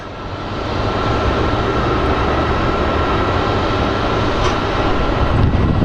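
British Airways Boeing 737-300 airliner passing at Phoenix Sky Harbor airport, a steady loud broadband engine roar that swells in and holds throughout, with no talking.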